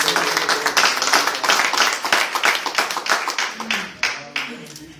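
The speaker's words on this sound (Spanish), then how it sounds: "¿Cuánto le dan un aplauso al Señor?" A church congregation applauding the Lord during a Spanish-language service: a burst of brisk, dense hand clapping from many people that thins into scattered claps toward the end.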